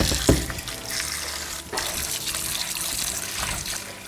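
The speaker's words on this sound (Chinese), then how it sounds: "这里面水我们给它倒掉，同时要把这个盐分给它重新洗一下，用清水" Clean water runs and splashes steadily over salted vegetables being rinsed in a kitchen sink, a close continuous pour with small splashy bursts and no voices.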